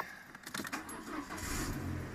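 A car engine cranks and catches while keys jangle, then settles into a low steady idle, close by and moderately quiet, with the oil level low and the car in a service position.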